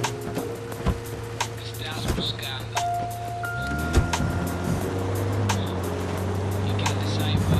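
A car in Ghost Recon Wildlands drives off, its engine humming steadily, then rising in pitch as it shifts gears and speeds up, with faint clicks and thumps from the vehicle.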